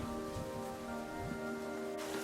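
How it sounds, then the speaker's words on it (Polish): Light drizzle patters steadily on surfaces outdoors while trekking through a ravine on Gran Canaria, a soft continuous rain hiss with a low steady hum beneath and no talking. "Znowu zaczyna siąpić deszcz."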